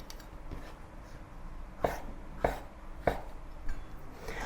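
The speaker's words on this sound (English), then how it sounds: "Let's cut all the mushroom into strips." A knife cuts mushrooms into strips on a board, giving a few crisp chopping taps at a steady, unhurried pace over faint background noise.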